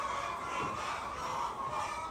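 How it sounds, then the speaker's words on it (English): Chickens cluck softly and continuously in the background, a faint, steady murmur of fowl with no talking. "You know why the chickens are making that noise?"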